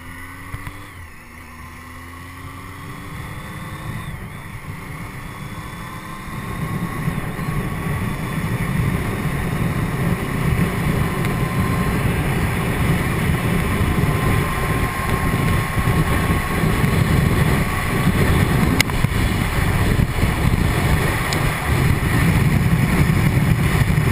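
Steady, loud wind roar buffets the rider on a Triumph Tiger 800XC motorcycle, blending with the engine's drone and building in intensity as speed rises, continuous throughout with no talking.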